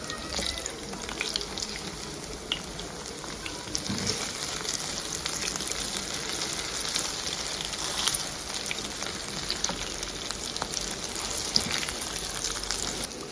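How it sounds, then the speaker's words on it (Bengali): Coriander leaf pakoras topped with fried prawns sizzle in hot oil as their second side fries, a close, continuous bubbling hiss with scattered small pops throughout. "এখন অপর পিঠ ভেজে নেব"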